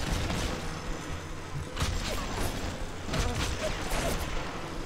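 Gunfire and explosions in BioShock Remastered, a dense stretch of combat with repeated sharp bangs and blasts at irregular intervals over a noisy backdrop, with a voice heard at times.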